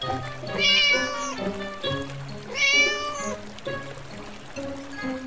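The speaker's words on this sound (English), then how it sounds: "Cat." Two drawn-out, high-pitched cat meows, loud and close, separated by a pause and followed by softer mewing sounds, with no talking over them.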